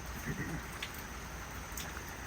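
Faint, steady rain falling outside, heard from indoors as a soft, even patter with occasional light drips.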